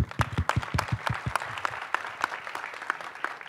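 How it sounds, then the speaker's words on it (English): Audience applause for children called onstage at a Marathi film music launch, with a few sharp nearby claps at first that settle into scattered, lighter clapping from the crowd. "Please applaud them."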